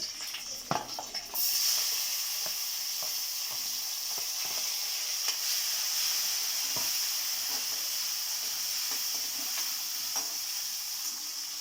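Tomato and dried red chili drop into hot oil already crackling with mustard seeds and a pinch of asafoetida, setting off a loud, steady sizzle and hiss that runs unbroken with faint pops and stirring clinks.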